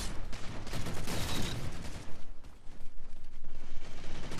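A gun is fired continuously in Halo 4 Infinity Slayer on the Abandon map, producing dense, loud, rattling bursts over a busy roar of battle with mechanical clatter, and no talking.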